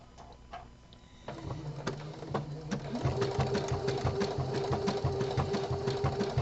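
An inexpensive Walmart Project Runway edition home sewing machine stitching a boxer brief panel in knit fabric: a few slow clicks, then a close, even, rapid chatter of needle strokes over a motor hum that speeds up and holds steady.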